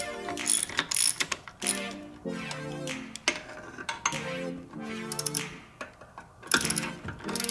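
Ratchet with a long socket turning a turbo charge pipe bolt on a Nissan Skyline GTR RB26DETT engine, giving close bursts of quick metallic clicking separated by short pauses.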